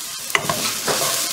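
Onions sizzle and crackle in a hot pan while being stirred for BBQ beef, a steady close frying hiss broken by a couple of sharp utensil scrapes, with no voices.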